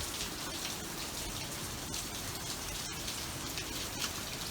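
Steady outdoor rain falls on freshly potted hibiscus cuttings, a continuous even patter with a few sharper drop hits, filling the whole stretch with no voices.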